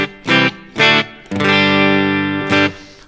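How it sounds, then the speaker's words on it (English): Distorted electric guitar played through an amp and reverb pedal with the effects loop bypassed: two short chord stabs, then a long sustained chord and a final stab, loud and close. "you're just hearing the amp and the reverb at the end, but nothing else"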